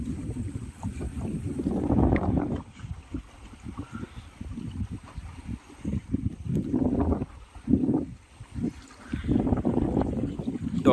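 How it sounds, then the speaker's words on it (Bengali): Trawler boats pass in a row on a river in the Sundarbans at ebb tide. Their engines rumble low and rise and fall as each one goes by, mixed with wind buffeting the microphone. "দেখো এখানে সারি সারি ভাবে ট্রলার আসছে।"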